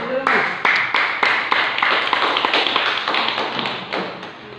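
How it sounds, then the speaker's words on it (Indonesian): Applause from a classroom of students, a dense burst of many hands clapping that stays fairly loud and steady, with a few sharper slaps standing out, lasting about four seconds. "Ya, aplaus."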